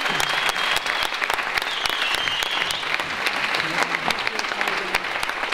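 A theatre audience at a Frank Sinatra show premiere in Békéscsaba gives sustained applause for the production staff, a dense wash of many hands clapping with sharp individual claps standing out throughout.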